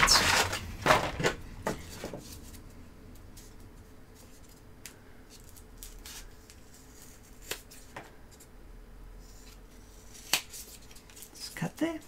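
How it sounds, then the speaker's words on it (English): Scissors snipping during a workshop build, a few sharp cuts clustered at the start, then sparse scattered clicks and snips over a quiet background with occasional talk. "Scissors and cut."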